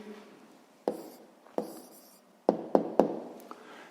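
A pen writes by hand on paper while working out a sixth-grade maths answer, with soft scratching strokes broken by several sharp taps of the pen, close and quiet.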